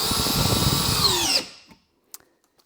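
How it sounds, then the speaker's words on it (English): A DeWalt DCD800 cordless drill in mode 2, drill setting, whines loudly at high speed for over a second, then winds down abruptly and stops, followed by a couple of faint clicks. "And now the DCD800 larger drill. Again on mode 2 and in drill setting."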